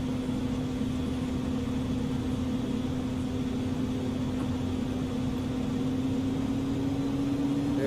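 FlyJSim Q400 turboprop engines in X-Plane 11 spooling up to full RPM, a steady droning hum that rises slowly in pitch over a broad, even roar, heard from inside the cockpit.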